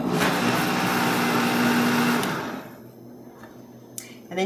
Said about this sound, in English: And turn the blender on.